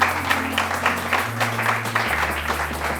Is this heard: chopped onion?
no